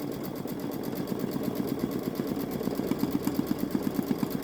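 A Baby Lock Solaris Vision embroidery machine stitches a fox design onto a sweatshirt, its needle hammering in a fast, steady mechanical rhythm over a constant motor whir, close and continuous with no talking.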